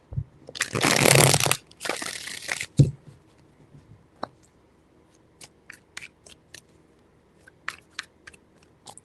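A deck of tarot cards is shuffled in two brisk riffling bursts near the start, followed by scattered soft taps and card handling clicks.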